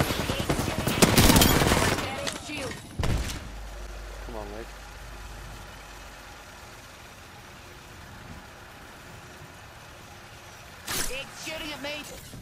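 Gunfire in the Apex Legends battle royale game bursts loudly in the opening seconds, with another short burst near the end, while players talk over a quieter stretch of distant game noise in between.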